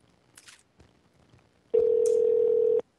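A telephone emits one loud, steady tone lasting about a second after a few faint clicks and rustles.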